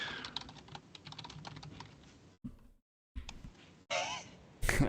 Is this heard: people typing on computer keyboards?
yes